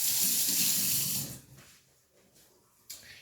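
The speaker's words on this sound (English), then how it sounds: "Rinse my hands off." Water runs steadily from a kitchen tap as hands are rinsed under it, a loud broadband rush for just over a second before it is shut off, leaving faint clatter and a soft knock near the end.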